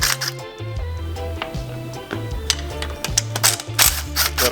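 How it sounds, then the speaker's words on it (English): Camera shutter clicking repeatedly while photographing the throttle linkage assembly on a Honda GX630 engine, a run of sharp mechanical snaps and whirring clicks, close and fairly loud, with no one talking. "I'm going to take some good pictures of how that throttle linkage assembly is set up"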